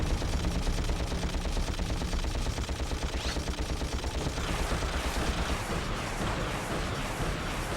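Rapid, continuous weapon fire from the Ratchet & Clank video game plays as a dense, loud stream of shots and mechanical clatter while missiles are launched, with no pauses.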